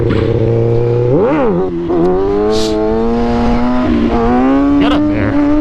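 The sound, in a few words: motorcycle engine revving during a seat stander stunt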